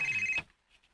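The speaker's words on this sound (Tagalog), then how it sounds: "ay mong cellphone nagsigbagting" A cellphone ringtone sounds loudly as a steady, sustained electronic tone with harmonics, then cuts off abruptly, leaving a near-silent room with faint rustles.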